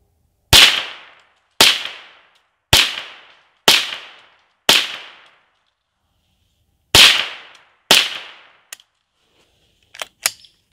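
Gunshots at a pumpkin target, seven loud sharp cracks fired about a second apart, each with a quick decaying echo, then a pause and a few faint clicks and small knocks.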